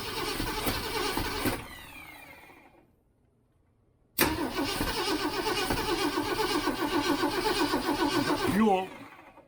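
A 1967 Ford Mustang's 390 V8 cranks and catches briefly, falls silent for a couple of seconds, then fires again with a loud, sharp start and runs roughly and close, with a rough exhaust leak near the heat riser, before cutting out.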